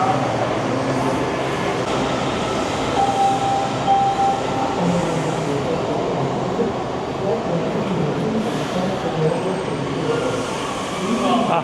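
A metro train runs with a continuous loud rumble and rattle, steady throughout, with faint voices in the background.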